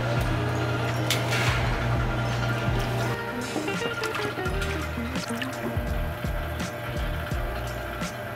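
Coolant is poured into a BMW E60 530i: a steady liquid fill with gurgling and dripping, close by, over a constant low engine-bay hum, with scattered small knocks and squishes.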